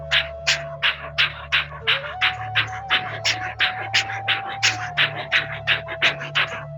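Forceful breaths pushed out through the nose in a rapid, steady rhythm during a yoga breathing exercise, imitating an engine. About twenty sharp puffs are close and distinct, over a faint sustained tone and a low background hum.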